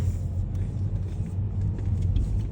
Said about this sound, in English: Log trucks.